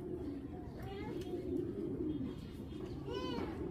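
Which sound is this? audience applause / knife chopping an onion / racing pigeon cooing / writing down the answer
racing pigeon cooing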